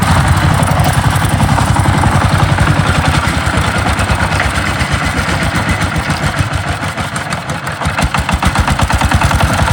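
A power tiller engine runs at a steady, close, loud idle, its rapid regular chugging pulses continuing unbroken with no talking.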